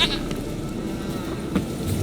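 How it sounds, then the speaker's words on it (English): A goat bleats in The Witcher 3: Wild Hunt, with short bleating calls heard over quiet outdoor game ambience. "Here, goat."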